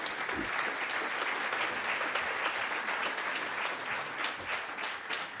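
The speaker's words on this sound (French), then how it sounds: "Si vous voulez bien applaudir nos intervenants." Audience applause for the speakers at the close of a talk on a bio-based building project, dense steady clapping filling the room at moderate level, with a faint voice briefly audible beneath.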